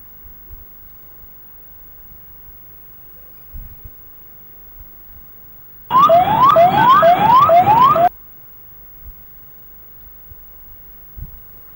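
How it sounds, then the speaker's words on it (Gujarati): An ambulance siren wails loudly in city traffic for about two seconds in rising, repeating sweeps. Before and after it, quiet street noise with a few faint thumps. "વારંવાર સાયરન વગાડવામાં આવી રહ્યા હોવા છતાં ટ્રાફિક નિયમોનું પાલન કરતા જનતા"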